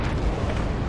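A grenade explosion in Red Orchestra 2 at Mamayev Kurgan, a thick, loud, sustained roar of blast rumble filling the whole second with no voices.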